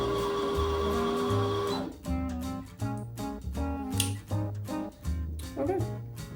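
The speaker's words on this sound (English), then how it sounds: "we're gonna have to wind the bobbin" A sewing machine winding a bobbin, first with a steady whirring hum, then settling into a series of short rhythmic mechanical bursts with brief pauses between them, close and moderately quiet.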